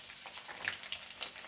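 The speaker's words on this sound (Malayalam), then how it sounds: "വെളുത്തുള്ളി ഇട്ട്," Garlic frying in hot oil for a homestyle fish curry, a brief, steady close-up sizzle with light crackles.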